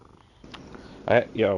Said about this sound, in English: There's nothing quite like the sound of a purring cat